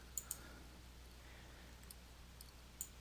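A computer mouse clicks faintly in a quiet room while working in Excel: two quick clicks close together, then another a few seconds later.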